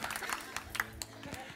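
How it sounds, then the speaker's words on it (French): A church congregation claps together, a faint, steady broadband patter that lasts the whole short stretch, with a voice speaking over it. "On peut l'applaudir"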